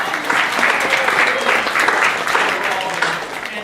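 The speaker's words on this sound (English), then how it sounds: "So let's give him a big round of applause." Audience applause at a convention panel: steady clapping from a medium-sized crowd filling the whole moment, fairly close and even.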